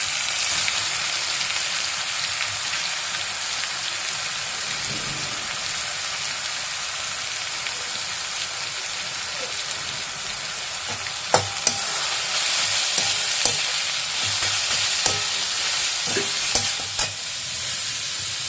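Chopped carrot tipped into a hot oiled pan for a samosa filling, giving a steady broad sizzle throughout, with several sharp spoon scrapes and taps against the pan as it is stirred near the end; no talking.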